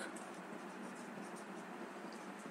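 Handwriting a sentence, a soft continuous scratch of pen or pencil across paper, faint and close, steady for a few seconds with no voice.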